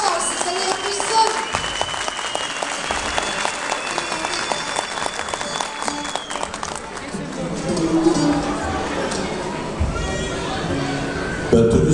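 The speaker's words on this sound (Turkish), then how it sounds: "başkanımıza daha güçlü bir alkış istiyorum" An audience at a village cultural festival in Aşkale, Erzurum, applauds for the village head, with sustained clapping from a crowd mixed with voices and children's chatter.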